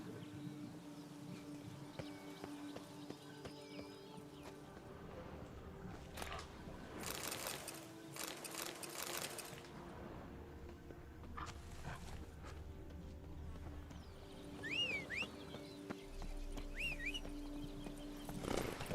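Geralt's horse Roach clip-clops along in The Witcher 3 under a faint game soundscape with music tones, hoofbeats soft and steady, a brief louder clatter in the middle, and a whinny-like cry near the end.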